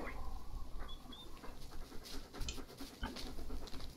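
A dog panting in the horror video game Blair Witch, rapid rhythmic breathing that continues steadily under faint game ambience and small footstep-like patter.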